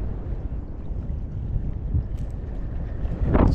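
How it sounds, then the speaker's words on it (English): Wind blowing across a saltwater fishing pier at night, a steady close rumble buffeting the microphone throughout, swelling slightly toward the end. "The wind's picking up now."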